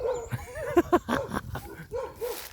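Dog barks and yips a few times at moderate distance beside a fishing spot, with short bursts and whimper-like cries scattered over low background noise.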